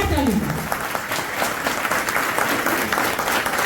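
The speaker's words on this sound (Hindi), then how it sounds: "चाहते हैं तो एक बार जोरदार ताली होना चाहिए" A seated audience at a direct-selling training seminar breaks into loud, sustained clapping that fills the room evenly throughout.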